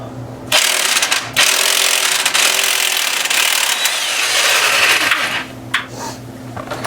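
Ratchet loosening an engine mount nut on a 2004 BMW 325xi during engine removal: a long, loud, continuous mechanical clatter of about five seconds that stops abruptly, followed by faint clicks.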